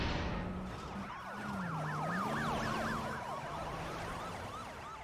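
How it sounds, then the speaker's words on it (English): Police car sirens blare loudly in the Batman: Arkham Knight video game, wailing and yelping in rising and falling sweeps that overlap one another over a low steady tone, with no talking. "what are you blaring your sirens for? Fucking cops."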